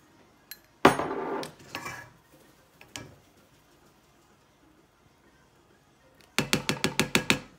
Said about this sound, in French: Et on mélange de nouveau.